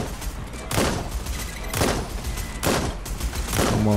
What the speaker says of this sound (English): Oh shit, I see what's shooting me.